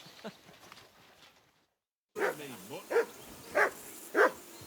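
Dog barking in a medieval game world, four sharp barks evenly spaced after a short gap, loud and close, following a stretch of quieter ambient sound.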